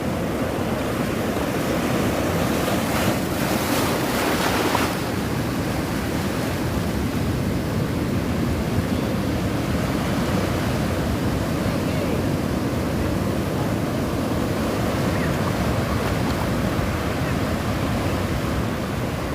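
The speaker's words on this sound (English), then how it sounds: "Some big waves rolling in today." Big ocean waves roll onto a surfing beach at St. Michael's on the Indian Ocean, a steady, loud wash of surf with a brief louder crash early on, continuous throughout with no talk.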